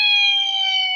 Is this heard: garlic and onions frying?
no